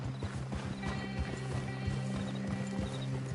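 Horses in a video game clip-clop their hooves in a quick, steady rhythm as riders dismount, with the clopping close and continuous over a low background tone.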